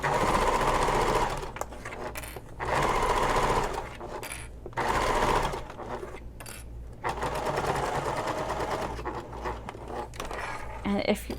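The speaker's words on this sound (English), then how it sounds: "I'm going to baste across this to keep it in place." Sewing machine basting a straight seam across the top of a messenger bag, running in steady bursts with short pauses between stitching runs, close and fairly loud with a low motor hum throughout.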